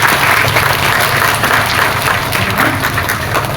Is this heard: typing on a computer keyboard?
no